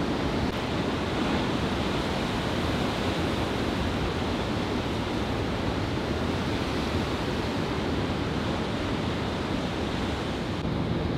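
Ocean surf rolls onto a open shore at sunrise, a steady, dense wash of breaking waves heard close and continuous with wind noise and no talk.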